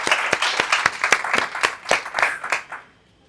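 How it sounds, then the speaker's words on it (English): A small audience at a community startup pitch event applauds, light crowd clapping with several distinct claps standing out, fading out after about three seconds. "Give Byron a round of applause."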